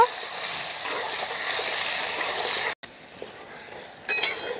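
Potatoes fry in hot oil with turmeric and salt, giving a steady broadband sizzle that stops abruptly, returns quieter, then rises again with a brief stir near the end.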